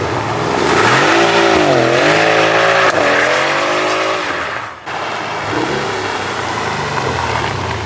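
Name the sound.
Mercedes car engine running with modified intake and exhaust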